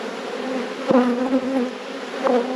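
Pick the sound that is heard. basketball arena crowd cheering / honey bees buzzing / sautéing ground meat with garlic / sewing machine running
honey bees buzzing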